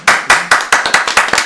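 A single person claps loudly and close, about seven sharp, evenly spaced hand claps in a steady rhythm, with no voices.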